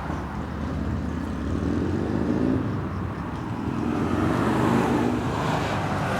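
A Harley-Davidson FXR motorcycle running after a top-end rebuild and exhaust stud repair: a steady, loud, rumbling engine drone with slight swells in revs, heard alone with no talking.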